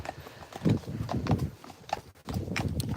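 Hooves of a black Friesian horse clip-clop in an uneven walking rhythm at moderate, close range, with a brief gap in the steps before they resume.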